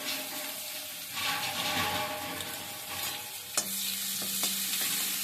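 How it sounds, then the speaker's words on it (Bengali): Garlic frying in a pan for a green-banana-peel kofta curry, a steady broadband sizzle with stirring scrapes throughout and a few sharp utensil clinks near the end, no talk. "রসুনটা একটু ভেজে নিচ্ছি"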